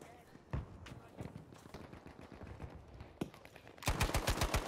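An M3 Grease Gun submachine gun fires in Battlefield 5, scattered single shots and short bursts early on, then a loud rapid burst at the end, with chatter from the match around it.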